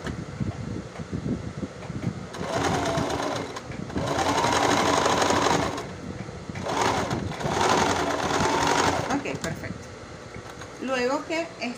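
A sewing machine stitches leggings fabric in two long, steady bursts of whirring, separated by brief pauses, with handling noises at the end.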